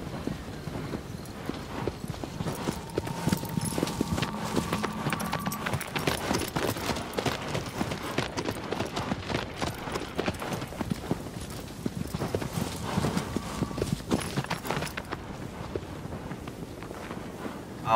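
Hooves clip-clop steadily as a horse runs in the video game Shadow of the Colossus, a rhythmic fast beat over light wind noise, with faint tonal music swells in the background.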